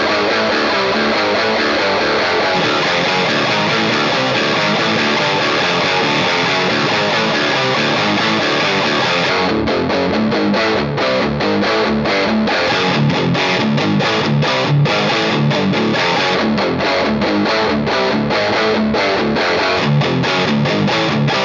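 A distorted electric guitar plays through a Marshall amp, SL5 or Studio Jubilee, in a dirty modern hard-rock tone, with loud, continuous chords and riffs that turn choppier partway through and no talk.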